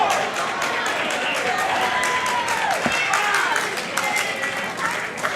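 A wrestling crowd at a live event claps and cheers steadily in a hall, a dense, fairly loud wash of applause and shouts with a commentator talking over it.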